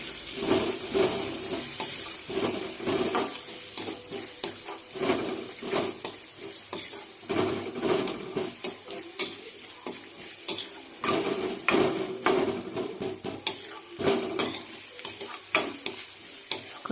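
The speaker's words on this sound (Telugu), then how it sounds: "అదే ఆయిల్లో అల్లం వెల్లుల్లి పేస్ట్ వేయాలి కొంచెం కలుపుకోవాలి" Onions and ginger garlic paste sizzling in hot oil for a gongura egg curry while a spoon stirs and scrapes the pan, a busy close frying hiss with frequent metallic clinks throughout, no voices.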